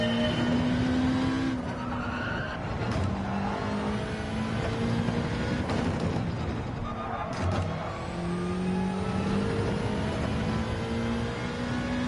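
Race car engine in Gran Turismo 7 braking into a corner, the steady loud drone dropping in pitch as revs fall on deceleration, with downshift blips and engine tone shifting throughout.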